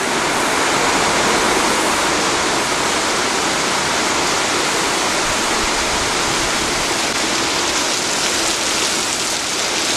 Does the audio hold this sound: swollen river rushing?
yes